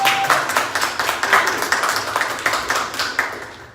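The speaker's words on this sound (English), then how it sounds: "Can I get a round of applause for that?" An audience at a talk claps in a brisk round of applause, many hands at moderate distance making a dense patter with a few sharper individual claps. It lasts a few seconds and then fades slightly.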